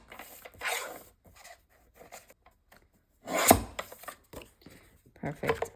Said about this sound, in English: let me just trim this down